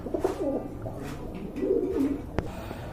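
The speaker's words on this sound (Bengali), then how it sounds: "এই যে দেখেন খুবই চমৎকার এক জোড়া কবুতর" A pair of pigeons cooing nearby in soft, low, rolling bursts, a few calls over a couple of seconds, with a sharp knock near the end.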